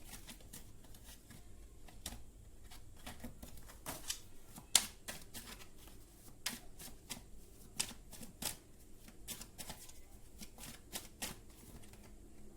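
Tarot cards are shuffled and a single card drawn, a run of quiet, close riffling snaps and soft paper flicks repeating at an uneven pace throughout.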